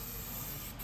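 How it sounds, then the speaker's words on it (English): An aerosol spray can releases paint in a steady, close, continuous hiss lasting under a second. "Got Jordy on the spray gun, aka can."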